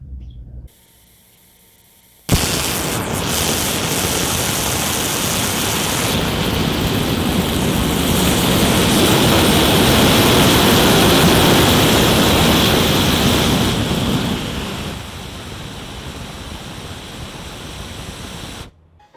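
A 3D printed metal plated ceramic rocket engine fires with a loud, steady roaring rush that starts abruptly after a quiet moment, holds for about twelve seconds, then drops to a softer sustained hiss near the end.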